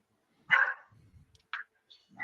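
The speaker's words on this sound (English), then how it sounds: "I do apologize for all the dogs barking in the background" Dogs bark in the background: one louder bark, then a few shorter, fainter yaps spaced apart over near silence.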